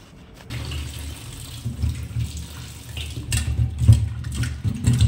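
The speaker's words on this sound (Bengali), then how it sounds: "এবার আমি ধুয়ে নেব" Running tap water pours steadily into a sink, splashing and sloshing as whole pointed gourds (potol) are rinsed, growing louder and busier toward the end.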